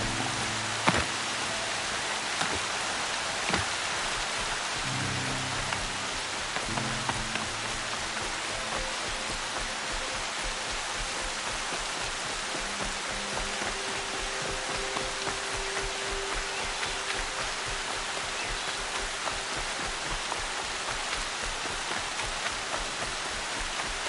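Steady, dense rainfall in the video game Horizon Zero Dawn, a continuous close hiss of drops pattering throughout, with faint low musical tones underneath at times.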